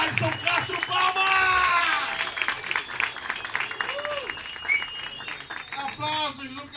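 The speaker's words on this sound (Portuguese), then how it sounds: "Receba o meu amigo Alisson Castro. Palmas!" Audience at a stand-up comedy club claps and cheers for a comedian coming on stage, a dense burst of applause lasting several seconds while a host's voice carries over the crowd.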